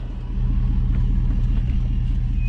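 A project drift car rolls off a trailer into a barn, its engine giving a steady low rumble that stays close and even throughout, with no talk over it.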